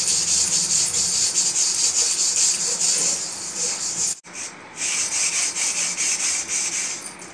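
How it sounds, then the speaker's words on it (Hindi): Someone scrubs the burnt, blackened bottom of an iron kadhai with leftover detergent and lemon juice, giving a continuous harsh rubbing rasp that stops for a moment before starting again. "ये हम इसकी पैंदी में डाल के इसको रगड़ेंगे"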